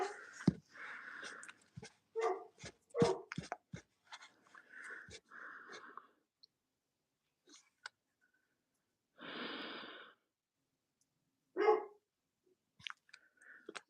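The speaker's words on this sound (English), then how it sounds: "Can you hear my dog barking?" A dog barks in a quick burst of several sharp barks, then falls quiet, with a snort and a few softer scattered sounds and barks trailing off in an otherwise silent room.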